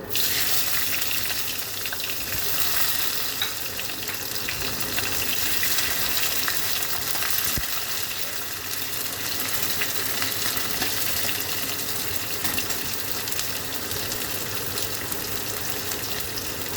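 Chopped onions fry in a pan with bay leaves after the tempering, giving a steady, close sizzle that stays even and fairly loud throughout, with no talking.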